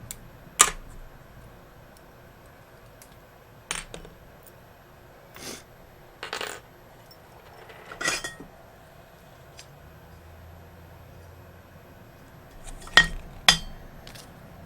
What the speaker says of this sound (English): I got a jar full of random extra screws they give you.